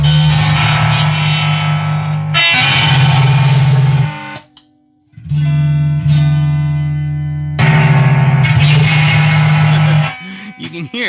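Electric guitar played through a Gemini breadboard frequency doubler octave-up effect, loud and distorted with dense bright harmonics, sounding in long sustained bursts separated by short gaps and a brief near-silence.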